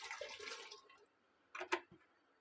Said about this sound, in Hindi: यखनी के लिए मैं 8 प्याले पानी डाल रही हूँ।